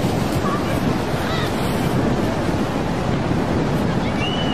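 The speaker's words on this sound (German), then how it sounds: "Guck mal da hinten, Schnicki, wie das hochpescht, das Wasser" Continuous rushing roar of tsunami waves surging at Khao Lak, Thailand, in 2004, broadband and steady, with wind buffeting the microphone throughout.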